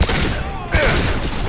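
Concussive shot ability fired in Mass Effect 2, a sharp close burst with a brief whooshing streak and a low thump near the middle, over continuous combat noise.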